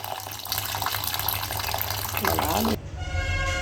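Water pours steadily into a container of rice being soaked for biryani, a close, continuous splashing rush that stops abruptly near the end.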